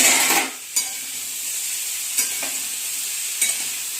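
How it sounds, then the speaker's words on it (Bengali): Pointed gourd and soybean curry fries steadily in hot oil in a pan, a continuous close sizzle with a few short clanks of stirring spaced through it. "দেখো লাল লাল হয়ে ফ্রাই হচ্ছে"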